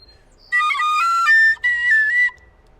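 A Tony Dixon tin whistle overblown with too much breath pressure, giving two loud shrill sustained phrases with a brief gap between them, played alone with no talking.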